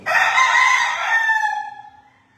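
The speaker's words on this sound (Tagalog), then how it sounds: "Matatanda rin po itong mga manok na to." A rooster crows once, loud and close, the call rising then trailing off over about two seconds.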